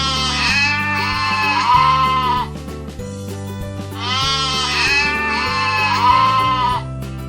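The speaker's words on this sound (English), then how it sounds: "Goat." A goat bleats twice in long, wavering, nasal cries separated by a short pause, close and loud, with a low steady hum underneath.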